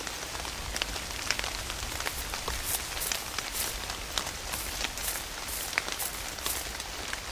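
Rain falls steadily in the PSVR2 hunting game Virtual Hunter, a dense, even hiss with scattered crisp droplet ticks throughout and no voices.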